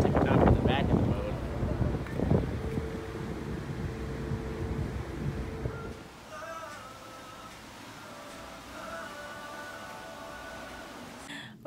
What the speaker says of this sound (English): We are at the tip top of the boat. It's super windy.